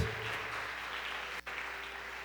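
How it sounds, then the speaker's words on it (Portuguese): Steady crowd applause from a church congregation fills the whole stretch, a dense wash of clapping with no voices over it and one brief dip near the end. "Vocês podem aplaudir ao Senhor Jesus?"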